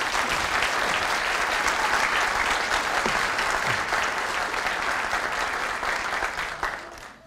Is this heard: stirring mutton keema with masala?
no